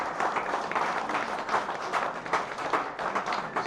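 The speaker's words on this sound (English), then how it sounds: "Falls nicht, dann nochmal ein ganz, ganz großer Applaus für Sandra." An audience at an astronomy talk night in a bar applauds, a dense patter of many hands clapping at moderate distance, steady throughout with no clear voices on top.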